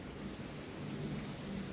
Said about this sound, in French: Moi je pense à un orage fort ça.